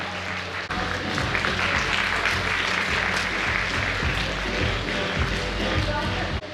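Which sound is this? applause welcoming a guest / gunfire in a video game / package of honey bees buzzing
applause welcoming a guest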